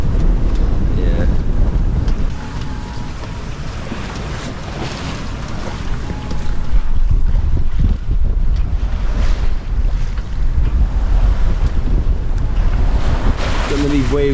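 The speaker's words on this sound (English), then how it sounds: "Some of these waves are really steep." Steep ocean waves wash and break around a sailboat at sea while wind buffets the microphone in a steady, loud roar, with short surges of surf and no voices.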